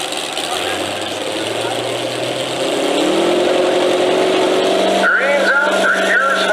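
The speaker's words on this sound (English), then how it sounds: "Start off mod tractor, and we'll work from there." A modified pulling tractor at an East Coast Pullers tractor pull in Boonsboro gives a loud, steady engine drone that climbs in pitch partway through and holds a high, strained roar, with a voice over it.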